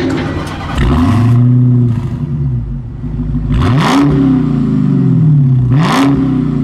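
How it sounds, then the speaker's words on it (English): A 2020 Dodge Charger SRT Hellcat Widebody's huge engine revs loudly several times, each blip rising and falling in pitch over a steady deep exhaust rumble, heard close with no talking. "you'd expect a huge engine like this to produce a fantastic exhaust note"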